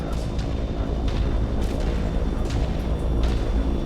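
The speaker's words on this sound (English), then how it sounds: "Missiles on the approach" Incoming missile explosions in a BattleTech-style mech combat video game, a dense run of heavy booms and bursts rumbling one after another at steady loudness, with no talking over them.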